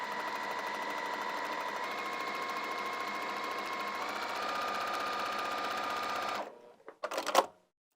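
A sewing machine fitted with a piping foot runs steadily, stitching piping onto a fabric edge for about six seconds, then stops, followed by a few short clicks and handling noises.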